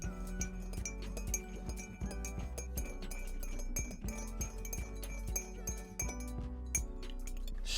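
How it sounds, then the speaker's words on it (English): A Mezcal Black Manhattan cocktail is stirred with ice in a glass, giving a steady run of soft clinks and rattles that carry on for several seconds with no talking. "Then we are going to add a moderate amount of ice. Now stir for 5 to 10 seconds."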